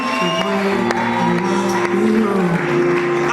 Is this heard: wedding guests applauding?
yes